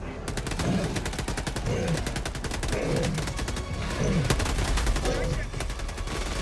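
Rapid automatic gunfire from the video game Helldivers 2 rattles in long sustained bursts, loud and close, with explosive thumps mixed in and game noise throughout.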